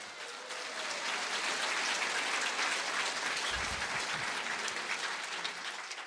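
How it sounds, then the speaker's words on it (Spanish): Congregation applauding loudly at a church service, a dense sustained wash of clapping that holds steady throughout without any voices. "Fuerte aplausos al Señor."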